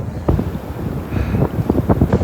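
Strong surf pounds a black sand beach on the Tasman Sea near Auckland, with repeated rushing wave bursts over steady wind buffeting the microphone.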